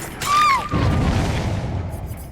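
Explosion in the video game Dead by Daylight: a brief rising whistle leads into a loud, close boom that rolls into a rumbling, crackling decay.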